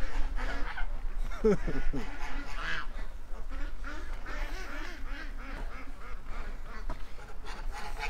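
Ducks quack and honk steadily in a noisy outdoor feeding scene on a lawn, with a person talking over the birds throughout.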